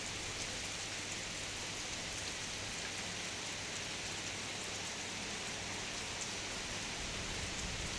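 Steady, dense wash of heavy rain pouring down, a constant hiss with no breaks and no voices.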